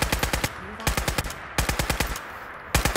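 Bursts of rapid combat rifle fire in Fallout 4, loud and close, coming in several quick strings of shots separated by brief pauses, with no talking.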